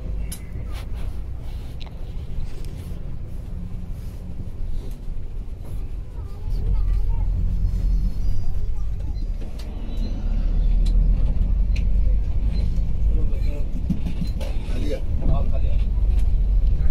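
A Khan Movers passenger bus on the Shikarpur to Karachi route rumbles along after departing, a continuous low road and engine drone that swells louder partway through, with someone speaking over it.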